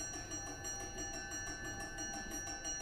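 Division bell ringing in a parliamentary committee room, a continuous electric ring with a steady tone, heard at moderate distance and holding evenly without a break.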